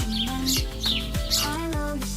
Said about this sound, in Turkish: Kuş.